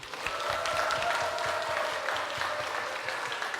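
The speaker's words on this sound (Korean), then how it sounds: "우리 그 엔션 청지기에게 큰 박수 한번 주겠습니다." A church congregation at a Sunday afternoon service claps together in dense, steady applause for a steward, a continuous crisp patter filling the room with no voices over it.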